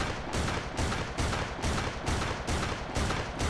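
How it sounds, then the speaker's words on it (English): An MC-25 semi-automatic shotgun with a drum magazine fires in the Fallout 4 game, its loud, dense blasts arriving in a steady rapid rhythm of roughly one every half second, close and continuous. "we got a new shotgun here. It's a semi-auto shotgun."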